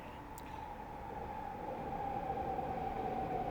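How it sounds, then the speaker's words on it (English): A passing train rumbles steadily at a distance, a broad even roar with a faint squealing tone that grows slightly louder as it goes by. "See if you can time how often those trains go by."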